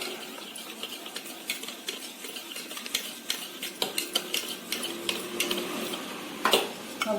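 Chocolate cake batter mixed by hand in a bowl at home, a steady run of soft scraping and light clinks of the utensil against the bowl, close and fairly quiet.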